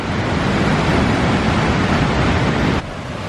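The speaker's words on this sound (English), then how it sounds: "That is some angry water." Angry, turbulent water rushing down beside an old stone iron furnace, a loud close continuous roar of broad noise with a slight drop in level near the end.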